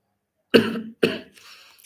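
A man coughs twice in quick succession, close and fairly loud, then a fainter breathy sound follows, with nothing else in the background.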